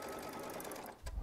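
A Baby Lock Solaris sewing machine piecing a quilt with a quarter-inch piecing setup, running in a fast, steady whirring chatter of rapid stitches that cuts off near the end with a soft thump.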